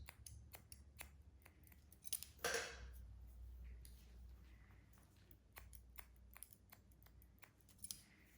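Professional hair shears snipping hair during an undercut bob haircut: a quiet series of crisp, irregular close-up snips, with one louder rustling cut partway through and soft handling noises between.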